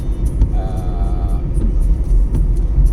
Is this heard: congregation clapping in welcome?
no